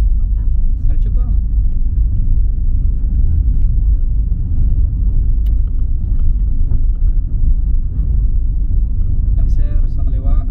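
A car engine hums as a steady low rumble while driving on a highway, with continuous road noise throughout and a person talking over it.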